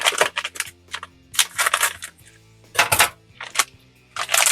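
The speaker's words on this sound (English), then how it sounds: "let's grab our scissors and let's open it on up" Scissors snip and slice open a cardboard product box in a series of close, crisp cutting bursts with short pauses between them.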